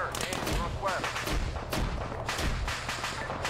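Gunfire in a military video game rattles in dense, repeated bursts throughout, loud and continuous, with voices speaking faintly in the mix.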